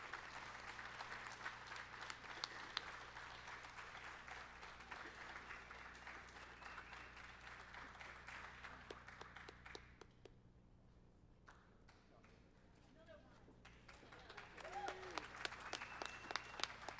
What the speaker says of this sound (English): Can we have one more round of applause for our recipients?